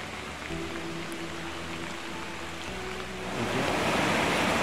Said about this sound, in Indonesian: Ini adalah air terjun yang kedua.